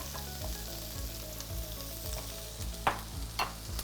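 Celery and carrots fry in coconut oil in a pan, a steady close sizzle with soft rhythmic stirring scrapes and a couple of sharper clinks near the end, no talk.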